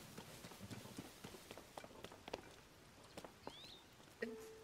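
Horse hooves clip-clop in The Legend of Zelda: Tears of the Kingdom, a quick patter of light, fairly faint steps with a few brighter clicks near the end, under a soft background bed.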